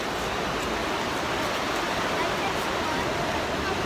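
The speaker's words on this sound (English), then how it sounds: "And there's like water right here, and you can see it flowing." Water flows near a waterfall in Yosemite, a steady, loud, broadband rush of water that continues unbroken from start to finish.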